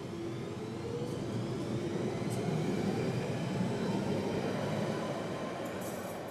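A London Underground Central Line train running under automatic train operation near a siding by Roding Valley station, a steady loud rumble and rail roar holding at a constant level throughout with no voices.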